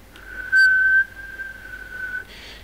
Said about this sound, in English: The smaller the gap between your lips, the louder and clearer the sound of the whistle.